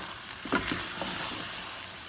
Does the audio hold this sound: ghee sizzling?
yes